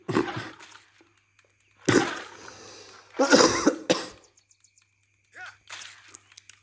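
Several harsh coughs in separate bursts, close and loud, with quiet pauses between them and a faint hum underneath.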